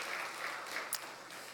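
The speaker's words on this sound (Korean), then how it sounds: "수고하시고 애쓰신 모든 분들에게 축복의 박수 했으면 좋겠습니다." Applause from a church congregation during a worship service, a steady, moderately faint wash of clapping heard alone.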